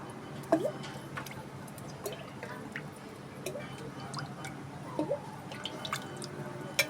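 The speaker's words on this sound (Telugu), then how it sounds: "ముందర బాండి పెట్టుకొని ఆయిల్ పోసుకోవాలా" Cooking oil is poured into a kadai for tamarind pulihora, producing faint drips and light ticking plops over a quiet kitchen hum. A few sharper drips punctuate the pour, with no talking.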